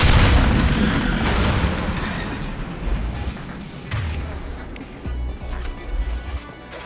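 Fuel tanks blown up in the video game Mass Effect 2, a loud, deep rumbling explosion that decays slowly, followed by scattered lower thuds and crackling debris.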